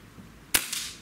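A single sharp crack from a Beeman Chief II PCP air rifle fired at a target, close and abrupt, followed by a faint pellet impact a moment later against a quiet background.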